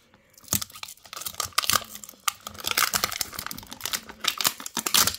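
Crisp, close crinkling and tearing of a plastic wrapper as a Make it Mini toy package is opened, with busy bursts of rustling and short pauses between handfuls.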